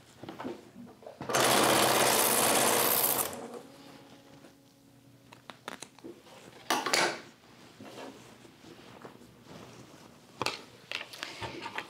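A sewing machine stitches a row of charm pack squares together for a modern quilt, with a loud steady run of stitching followed by scattered clicks and handling sounds, with no talking.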